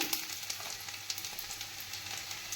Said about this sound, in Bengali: তেল গরম করে তার মধ্যে রসুন কুচি, আদা কুচি দিয়ে দিলাম